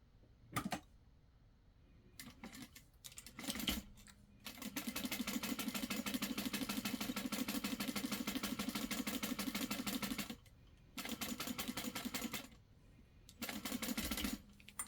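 A sewing machine stitching a zip wallet runs in bursts: a long steady whirring stretch of rapid stitching, then shorter runs separated by pauses, with a few clicks and handling knocks in between, close and fairly quiet.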